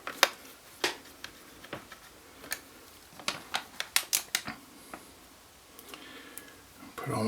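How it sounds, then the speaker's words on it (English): Screws being put back into an HP G60 laptop make small, sharp clicks and ticks, close and fairly quiet, in an irregular series of about fifteen taps with a brief pause partway through. "So I'm going to put screws back in."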